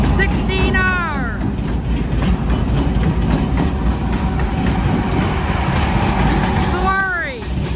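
An eastbound Norfolk Southern 16R freight train thunders past at close range at Greenfield, led by ES44AC, C44-9W and AC44C6M diesel locomotives. Loud, continuous rumbling rolls on throughout, with two bursts of horn at the start and again near the end.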